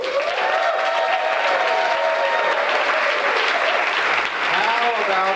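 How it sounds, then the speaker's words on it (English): Steady, close applause from an audience at a small business awards ceremony continues throughout, with a voice talking over the clapping. "Applaud for each one of these after I tell you who they are."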